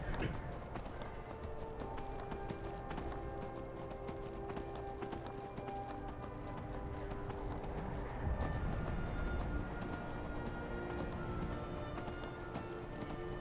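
Horse hooves clip-clopping at a steady gallop in the video game Skyrim, a continuous rhythmic patter with occasional snorts, heard alone at moderate volume with game ambience underneath.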